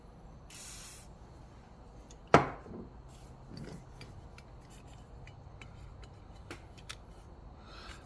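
Short hiss of WD lubricant sprayed onto screws during a toy repair, a brief burst near the start, followed by a sharp knock, then faint scattered clicks and handling noises in a quiet room.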